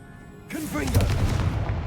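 A Confringo blasting spell in the video game Hogwarts Legacy bursts out after a brief quiet lead-in, a sudden whooshing boom with crackling that sustains loudly to the end.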